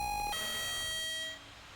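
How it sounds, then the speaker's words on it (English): An electronic motion sensor alarm beeps with a bright tone that shifts pitch once, sustains for about a second, then cuts off, leaving faint background hiss. "we discovered our motion alarm was triggered just outside the morgue"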